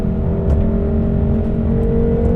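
Turbocharged engine of a 2018 BMW M6 Gran Coupe with a dual-clutch gearbox pulling hard under acceleration, a loud, steady, rising roar with a whirring tone running through it, heard from inside the car.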